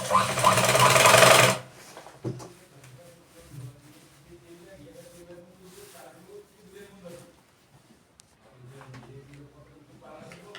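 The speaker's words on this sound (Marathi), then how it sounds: "हे मी तर स्टिच करून घेणार आहे" A sewing machine stitches a katori blouse, its lining joined along the cup side, in a loud, fast whirring run lasting under two seconds before it stops, leaving quieter room sound and low voices afterwards.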